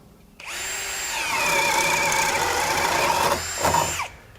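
A Ryobi HP compact 18V 1/2-inch cordless drill whirs steadily for several seconds as a self-feed bit bores in, briefly dips and revs back up near the end, then stops.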